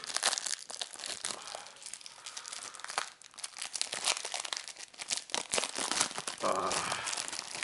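A double-wrapped package of trading cards being unwrapped, loud close crinkling of plastic and paper with bursts of tearing and crunching, continuous and irregular, no voices.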